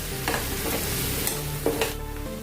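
Onions fry in a pan with a steady close sizzle, broken by repeated scraping and stirring strokes of a spoon.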